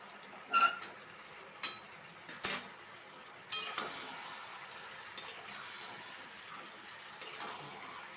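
Scattered clinks and scrapes of a utensil against a pan while pointed gourd curry is stirred, a few sharp knocks separated by quieter stretches, close by.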